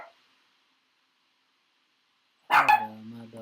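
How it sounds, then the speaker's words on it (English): A dog barks in a quick burst of two or three sharp barks close by, followed by a short whine-like tail, after a long stretch of near silence. "my dog is going crazy"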